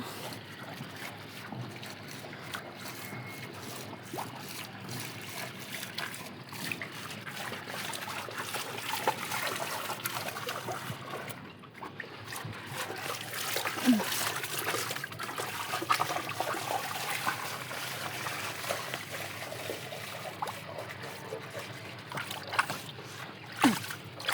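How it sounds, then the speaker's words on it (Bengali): Rainwater trickles and gurgles steadily as it drains out through holes on a rooftop garden, close by, with occasional splashes and faint background noise. "এই আমি এখন এই ছিদ্রগুলোকে ছাড়িয়ে দিচ্ছি পানিগুলো নামার জন্য"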